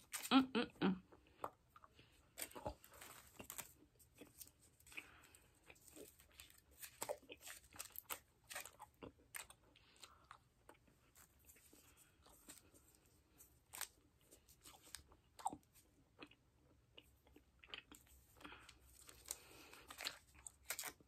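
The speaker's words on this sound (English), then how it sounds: "I'm trying to chew the best I can." Close, quiet chewing of peppermint Hubba Bubba bubble gum, with irregular wet smacks, crunches and clicks spread across the whole stretch, under occasional soft talking.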